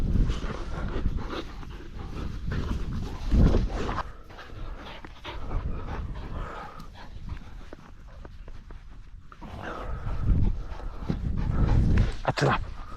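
Working dogs at a rabbit burrow during ferreting pant and scuffle close by in uneven bursts, with a few sharp yelps amid outdoor noise and occasional voices.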